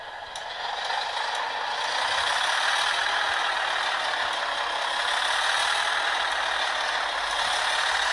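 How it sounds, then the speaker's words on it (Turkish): Pneumatic bus doors hiss and clunk shut on a city bus in Bus Simulator 2016, a steady loud air-release rush lasting several seconds with no talk. "Buradan da kapıları yeniden kapatıyoruz."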